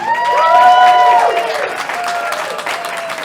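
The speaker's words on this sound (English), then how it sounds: "How about a nice big warm, tell us another one, round of applause." Audience applause and some cheering welcoming a comedian on stage at a comedy show, a burst of clapping that eases off, with voices over it.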